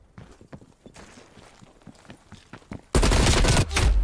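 Loud, close automatic gunfire in Call of Duty Cold War gun game bursts in after quieter footsteps and scattered game sounds, a dense continuous volley that dominates the final second.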